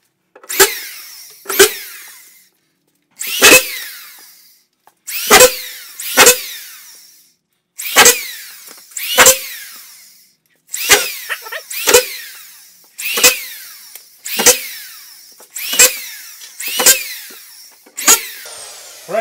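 A power drill drives screws into ceiling drywall, giving about thirteen short, loud whirring bursts at a steady rhythm, each a second or less with brief pauses between, close up and with no talking.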